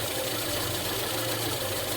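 A car engine idles steadily while its second-generation LPG system is being tuned, a continuous close rumble with a faint mechanical ticking and no voices.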